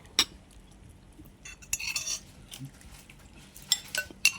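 A metal ladle scoops mushroom curry from a pot, giving sparse clinks and scrapes at irregular intervals, fairly close and quiet, with soft liquid stirring between the knocks.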